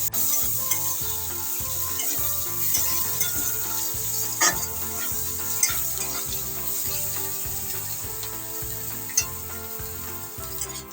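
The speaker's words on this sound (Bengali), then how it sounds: "পেঁয়াজ কুচিটা একটু লাল লাল করে ভেজে নেব।" Chopped onion frying in a pan for a tangra fish curry, a continuous close sizzle with occasional stirring clicks and scrapes throughout, no voices present.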